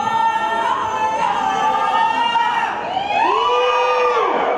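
A crowd at a traditional Thai ordination ceremony (tham khwan nak) cheers and whoops together in a loud, sustained chorus of rising and falling shouts that carries through the whole stretch.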